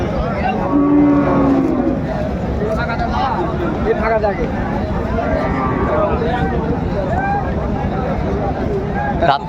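A bull lows with a loud, drawn-out moo early on at a busy Dinajpur cattle market selling large sacrificial bulls for Qurbani, set against a constant dense crowd babble and haggling voices.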